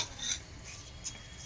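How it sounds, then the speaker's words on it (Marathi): Rice stirred and sautéed in a pan for veg pulao, with soft scraping strokes of a spoon against the metal and a faint sizzle, quiet and close, a couple of brighter scrapes standing out. "भात परतला."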